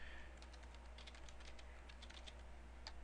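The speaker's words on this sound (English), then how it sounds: "I'll just type in a comment." Computer keyboard typed on steadily, with quick, light, close key clicks in an irregular rhythm over a low background hum, no voices.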